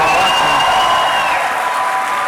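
A crowd applauds at the close of a gubernatorial primary debate hosted at Marquette University, steady, dense clapping that fills the whole stretch, loud and close, with a faint held tone running underneath.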